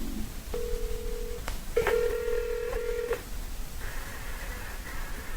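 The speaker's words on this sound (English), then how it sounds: "So I'm going to call this phone number." A telephone number is dialed in a series of short, clear keypad tones, some in quick bursts, followed by a ringback tone as the call starts to connect, close and distinct over quiet room noise.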